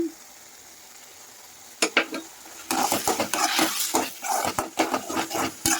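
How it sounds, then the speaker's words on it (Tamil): Bread halwa being stirred in a pan with ghee, a spoon scraping and clattering against the metal in a quick irregular rhythm over a light sizzle, louder after a quiet start. "இந்த மாதிரி கன்சிஸ்டன்சி வர வரைக்கும் வந்து நல்லா வந்து கிளறி விட்டுட்டே இருங்க"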